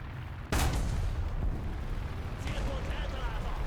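A tank cannon fires once in a World of Tanks-style game, a sudden loud boom that rolls into a long rumbling tail, with someone talking over the aftermath.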